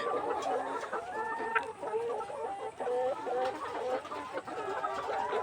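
Layer hens about 157 days old cluck steadily on a poultry farm, with overlapping calls from several birds. A continuous, fairly loud chorus of short clucks and cackles runs through the whole stretch with no talking.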